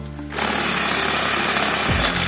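A drill bit bores through an iron pipe after a pilot hole, a loud continuous grinding whine that starts abruptly and runs steadily, dipping slightly in pitch near the end.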